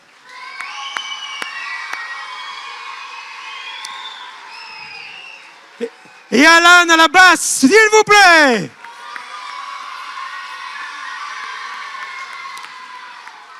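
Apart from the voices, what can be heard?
audience applauding and cheering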